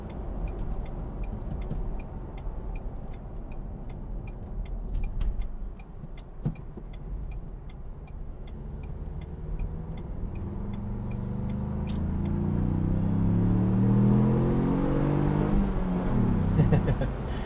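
A manual 2021 Ford Bronco Badlands with the 2.3L engine accelerates onto a highway, its low engine drone rising steadily in pitch and loudness over road rumble, heard from inside the cabin with no talking.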